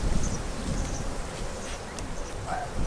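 Honey bees buzz around an open beehive while a queen excluder is being fitted, a steady diffuse hum of many insects with outdoor rustle and wind, moderately close and without speech.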